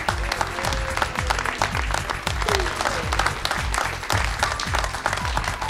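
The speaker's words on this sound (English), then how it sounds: "let's give them a round of applause" A comedy showcase crowd applauds the comedians as they come up for a bow. The loud, sustained clapping has a strong, close rhythmic thumping running under it the whole way.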